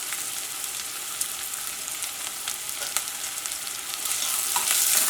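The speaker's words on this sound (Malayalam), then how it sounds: "ഇതെല്ലാം കൂടിയിട്ട് നന്നായിട്ടൊന്ന് വഴറ്റിയിട്ട് എടുക്കുക" Onion, ginger, garlic, green chili and curry leaves sauté in coconut oil for a mushroom curry, hissing with a steady crackling sizzle. Occasional spatula scrapes are heard, and the frying grows louder near the end, with no talking.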